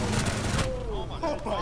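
Gunfire in the video game Rainbow Six Siege, a short burst of rapid shots in the first half second, followed by quieter game sounds, with voices talking over it.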